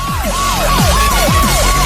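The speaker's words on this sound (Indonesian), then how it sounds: "Sirine? Ada apa ini?" A siren wails in repeating falling sweeps, about four cycles, loud and steady, with low thumping sounds beneath.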